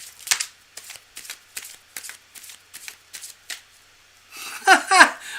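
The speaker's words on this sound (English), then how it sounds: "One last second shuffle." Tarot cards being shuffled in short bursts, a string of quick papery riffles close to the microphone, ending in a louder final riffle and bridge.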